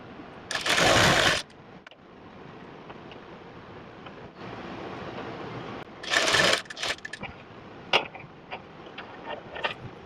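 A sewing machine stitches a strip for a baby dress in two short, loud bursts, one near the start and one after a quiet pause, with soft handling clicks and rustles between them.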